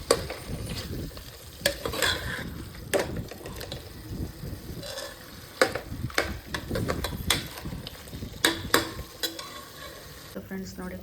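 A pot of chicken biryani boiling on the stove: a steady, close bubbling hiss broken by irregular sharp clicks and scrapes, fairly loud and continuous, with no voices.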